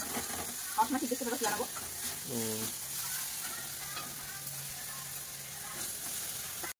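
Fish and vegetables fry in a pan with a close, continuous sizzle and stirring scrapes, while brief voice sounds rise above it early on.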